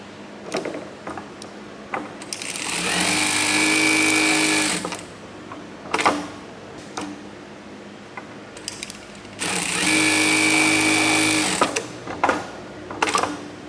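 A sewing machine runs in free sewing mode in two steady, loud bursts of stitching of about three seconds each, separated by quieter mechanical clicks and handling noises.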